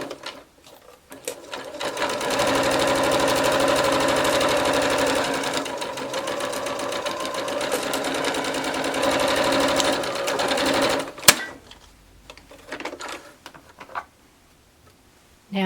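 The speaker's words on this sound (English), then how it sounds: "you're going to sew a basic stitch all down the length of your fabric" Sewing machine stitching a basic seam along a length of fabric, a loud steady rapid whirring run for about nine seconds that stops, followed by a few handling clicks.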